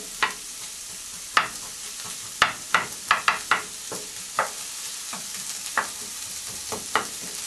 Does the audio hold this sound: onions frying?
yes